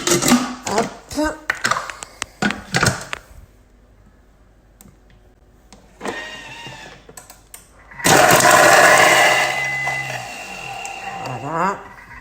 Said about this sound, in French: je vais hacher mes oignons directement dans un bol de Thermomix